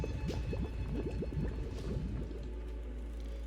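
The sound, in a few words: sound of something boiling, from video game Goddess of Victory: Nikke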